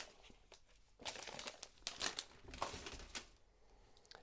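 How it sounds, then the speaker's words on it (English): Plastic wrap is peeled and crinkled off an Apple Magic Keyboard, a quiet, close run of crackling rustles and tearing bursts with no talking. "So let's remove the plastic."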